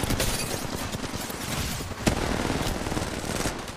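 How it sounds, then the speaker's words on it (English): Sustained automatic gunfire in the mobile shooter Apex Legends Mobile, dense overlapping bursts of rapid shots forming a loud, continuous fusillade with a heavier report near the middle. "The enemies are shooting at me."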